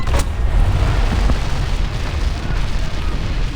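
A tank explodes in a tank combat video game: a sharp burst right at the start, then a loud rumbling roar that fades into a low, sustained crackle.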